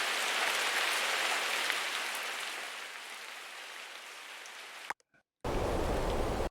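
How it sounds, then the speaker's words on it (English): Steady stereo rain loop, a dense hiss of drops on surfaces filling the clip alone, briefly cutting out near the end before resuming. "And then for the rain loop,"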